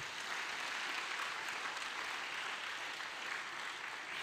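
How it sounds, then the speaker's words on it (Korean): A church congregation at a summer revival service applauds together, a dense, steady wash of clapping that holds evenly for several seconds, with no speech over it. "우리 하나님께 박수로 영광 올리겠습니다"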